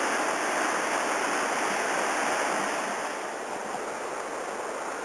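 Robson River in British Columbia rushing past the downstream side of a bridge abutment, a steady, loud broadband roar of fast water that stays constant throughout, with no voices.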